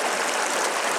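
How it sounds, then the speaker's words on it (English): Lewis Creek in Yosemite, below Vogelsang Pass, flows in a steady, close rushing wash of water over rocks, filling the moment with no voices. "This is Lewis Creek."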